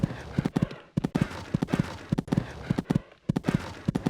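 Rhythmic hoofbeats of a galloping horse in a horse-riding video game, a cross-country course near Burghley House, fast and regular in repeating triplets, loud and close, with brief pauses between runs.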